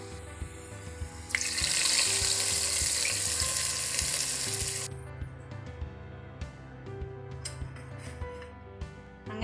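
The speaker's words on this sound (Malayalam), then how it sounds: "നമുക്ക് ഇത് കറിയിലേക്ക് ഒഴിക്കാം." Hot liquid is poured into a sizzling dried-fish and bilimbi curry, bursting into a loud rush of hiss for a few seconds, then settling into a quieter simmer with light ticks and stirring.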